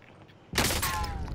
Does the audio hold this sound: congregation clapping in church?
no